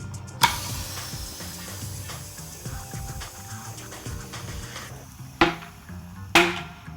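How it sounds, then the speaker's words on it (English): Air hisses steadily into a tubeless tyre on an ENVE G27 650b gravel wheel, punctuated by three sharp, loud pops as the bead snaps onto the rim. "hopefully this inflates and seats"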